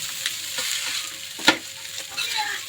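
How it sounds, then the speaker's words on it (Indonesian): Nasi goreng with noni leaves being stir-fried in a pan, a steady close sizzle broken by repeated scraping stirs and one sharper clack. "tadi kan udah nyolong daun mengkudunya tuh, nih lagi dimasak tuh sama Mami Jenny."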